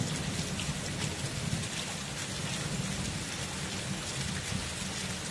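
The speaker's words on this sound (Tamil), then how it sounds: "மின்னல் அடிக்குது, காற்று பலமா வீசுது, மழை பெய்ய தொடங்குது" A storm with steady heavy rain, lightning and strong wind, a dense unbroken hiss of rainfall with a low rumble beneath it, loud and continuous throughout.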